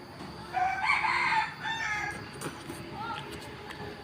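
A rooster crows loudly nearby, one long drawn-out call, then chickens cluck and squawk more softly at a farmyard in Thailand, with a faint voice in the background.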